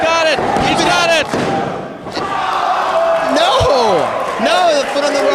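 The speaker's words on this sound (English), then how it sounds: "did you hear that crowd gasp?" A wrestling arena crowd reacts with a loud collective gasp and roar during a near-fall title match, under excited commentators talking over it and a sharp thud from the ring.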